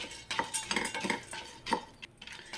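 Pumpkin seeds dry-roasting in a pan rattle and scrape in quick irregular bursts as they are stirred, fairly faint and close.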